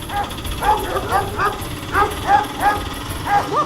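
Several dogs bark in a rapid, repeated series of sharp yips, loud and close, with a voice talking over them.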